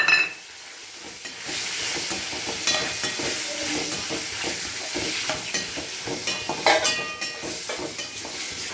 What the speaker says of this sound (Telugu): కందనకాయలు బాగా వేగుతున్నాయి